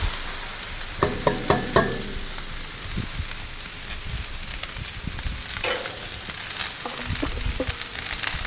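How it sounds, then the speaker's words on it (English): Steady crackling sizzle of onions frying on a hot Blackstone griddle, with several sharp metallic scrapes and clanks of a spatula, close up. "I can hear them sizzling away."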